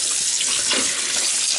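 Water runs steadily from a tap into a sink while flour dough is washed to make seitan, a bright, constant splashing stream close by.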